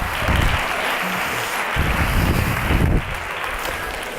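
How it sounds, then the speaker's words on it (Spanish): An audience at an education conference applauds in a dense, steady wash of clapping that swells and then eases slightly, loud and fairly close. "Un aplauso"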